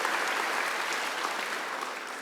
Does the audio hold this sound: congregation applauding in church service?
yes